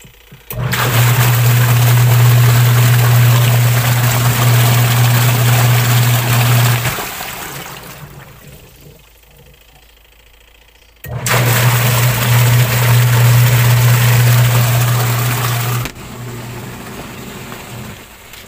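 A washing machine's wash motor, a faulty unit under repair, runs loudly with a strong low hum and a watery rush, switching off after about seven seconds and then starting again just as loudly.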